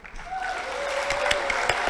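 Quick burst of hand clapping at a roulette session, a dense patter of many claps building over two seconds with a tone sweeping underneath.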